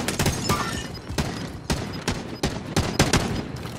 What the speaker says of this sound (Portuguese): dando tiro lá em cima